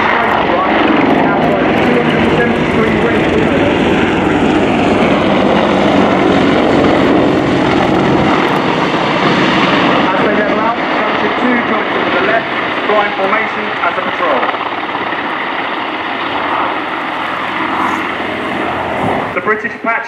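A pair of Apache AH1 attack helicopters displays at the RIAT 2015 air show, with a loud continuous rotor and engine roar under a commentator's amplified voice throughout.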